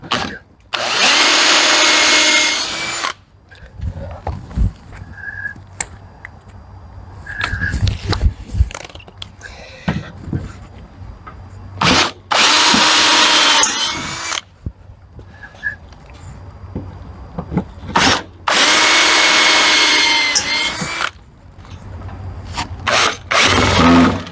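Power drill driving screws into the corners of a workbench: repeated loud bursts of whirring motor, each a couple of seconds long, separated by quieter clicks, clunks and handling noise.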